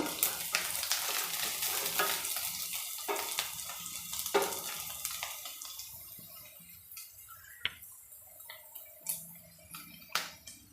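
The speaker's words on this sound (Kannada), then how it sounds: "ಈರುಳ್ಳಿ ಚೆನ್ನಾಗಿ ಗೋಲ್ಡನ್ ಕಲರ್ ಬರೋ ತನಕ ಫ್ರೈ ಆಗಬೇಕು" Onions frying in a pan until golden for a brinjal and potato curry, a steady sizzle with frequent stirring scrapes and ticks, louder at first and thinning out toward the end, with no talk.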